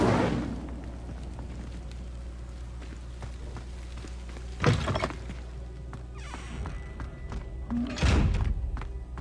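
Incendio fire spell cast in the video game Hogwarts Legacy, heard as sharp whooshing bursts with thudding impacts around five and eight seconds, over a low steady game ambience.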